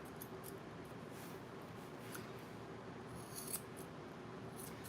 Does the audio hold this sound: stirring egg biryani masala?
no